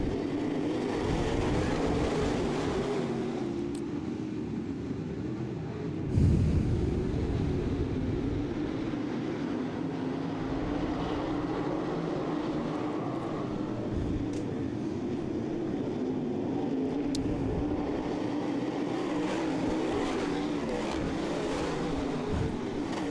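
Modified race cars roaring around a dirt oval at the start of a feature race, a dense, loud engine drone that swells and fades as the pack passes.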